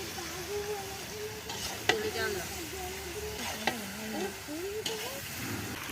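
Chicken hits hot spiced oil in a pan for a Bengali pora moshla curry, sizzling and crackling steadily with a few sharp pops and stirring scrapes, while a voice talks faintly in the background.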